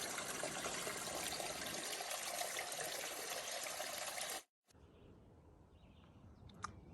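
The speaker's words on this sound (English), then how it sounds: "Sometimes you can only get water from a hole in the rock." Spring water trickles steadily from a hole in the rock on a mountainside along the Appalachian Trail, a close, continuous wash that cuts out abruptly and returns as a quieter trickle with faint outdoor ambience.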